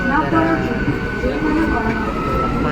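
A passenger train pulls out of Deshpran station in West Bengal, a steady loud rumble of wheels and carriages filling the whole moment without letting up.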